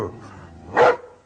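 A voice imitating a dog's bark: Pumuckl, a mischievous kobold emboldened by schnapps, lets out one short, loud, close bark-like yelp after a quiet stretch.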